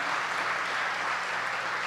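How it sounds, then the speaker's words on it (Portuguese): A church congregation applauds during a service, a dense, steady wash of many hands clapping throughout, fairly loud and continuous with no pauses. "Uma salva de palmas para Jesus"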